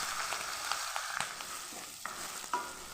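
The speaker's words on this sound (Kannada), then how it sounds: "ಪುನಃ ಬಿಸಿ ಮಾಡಿಕೊಂಡು ಕ್ಯಾಪ್ಸಿಕಮ್ ಫ್ರೈ ಮಾಡುವ" Capsicum fries quietly in a hot pan, a faint, even sizzle broken by light periodic taps and scrapes of a spatula.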